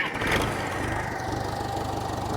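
A 50-year-old backhoe engine idles just after a cold start, giving a steady low chugging rumble with a regular pulsing beat that runs throughout, fairly close and with no voices.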